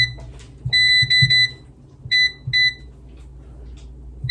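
An air fryer being set to preheat to 420 gives a series of close, crisp electronic beeps. A quick run comes first, then a few more single and paired beeps follow over a low background hum.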